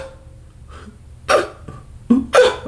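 A voice imitates a baby hiccuping with a few short, sharp gulping catches spaced apart, the last two in quick succession, close and alone.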